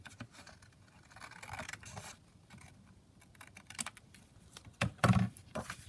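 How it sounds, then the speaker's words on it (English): Paper being trimmed for a handmade craft folder: a quiet run of scraping, slicing and small tapping sounds with uneven rhythm, growing louder with a couple of firm cuts near the end. "so let me just trim that down"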